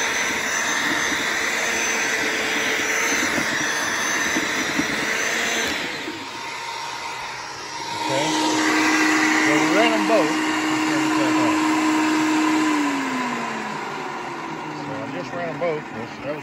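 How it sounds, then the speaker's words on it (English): A wood chipper powered by a portable power station (Anker Powerhouse 767, Bluetti AC200max or DeWalt) whirs steadily and loud throughout, its motor pitch shifting midway with a sustained droning tone, under occasional talk. "So now we're gonna turn the chipper on."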